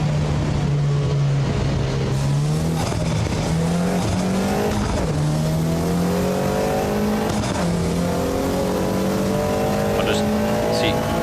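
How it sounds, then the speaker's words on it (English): Loud, continuous engine whine from racing cars in a sim racing game, pitch rising and falling through gear changes, with occasional tire squeal, under a talking voice. "I might have just blended into all the car noise."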